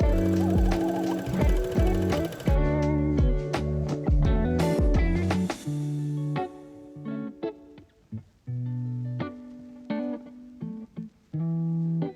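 A sewing machine stitches the shoulder seams of a bridal gown lining in short, stop-start bursts of rapid mechanical whirring, close and fairly loud.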